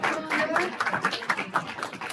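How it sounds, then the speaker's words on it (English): Scattered, uneven clapping from a small audience at a graduation ceremony, brief and fairly close, with individual claps standing out. "Give a round of applause"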